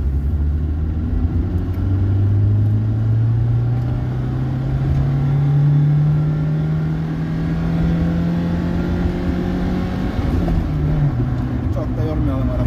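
A Hyundai Excel 1.5 GLS engine pulls hard through second gear, its drone rising steadily in pitch for several seconds before easing off, with brief talking over it.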